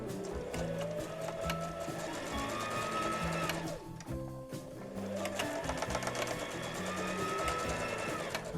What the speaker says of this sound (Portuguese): Terminei a costura de todas as faixas